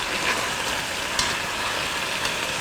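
Chicken browning in a hot pan while being cooked with sweet peppers and olives, a steady, dense sizzle that fills the whole stretch, loud and close, with no voices.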